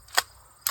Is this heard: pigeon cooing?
no